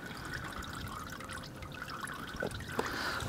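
Old engine oil drips and trickles from a car during an oil change outdoors. A faint, steady dribbling runs throughout, with a couple of brief louder splats near the end and no talk.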